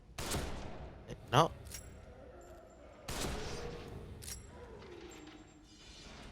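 Gunfire in The Evil Within as hanging enemies are shot down: a few sharp, loud shots, one standing out strongly, with a later burst and fading reverberant tail in a quiet, eerie game setting.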